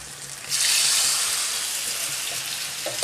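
Dhokli pieces dropped into hot oil, a loud, continuous broadband hiss of frying that swells suddenly and then holds steady, close up with no talk.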